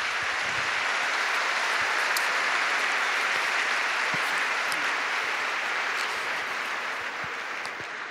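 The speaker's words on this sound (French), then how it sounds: "Allez, on va les applaudir." Sustained applause from a large audience at a general papal audience, a dense steady wash of clapping that holds for about eight seconds and tapers slightly at the end.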